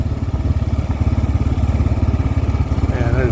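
A KLR 650 motorcycle is ridden on a backcountry trail, its single-cylinder engine thumping in a steady, loud, close rhythm throughout with no talk.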